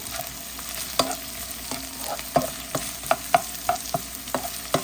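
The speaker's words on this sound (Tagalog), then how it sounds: "halu-haluin natin. Haluin natin maigi." Jackfruit cooking in coconut milk in a pan for ginataang langka, a spoon stirring in quick repeated scrapes and knocks over a low steady sizzle, close and fairly loud.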